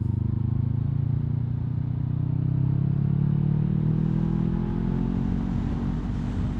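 A 500cc motorcycle engine drones steadily while riding on Thai roads, a loud low rumble with wind noise that swells slightly as the bike accelerates, heard from the rider's position.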